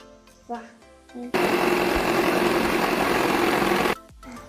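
An electric hand mixer beating cake batter of oil, water and eggs for a rainbow layer cake, a steady loud whir lasting about two and a half seconds, with speech before and after.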